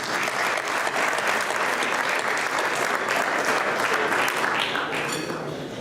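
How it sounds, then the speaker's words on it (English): An audience at a community unity dinner gives a final round of applause for the dancers, a loud, full and continuous ovation with some crowd noise, tapering only at the very end. "give one last round of applause for all of our dancers"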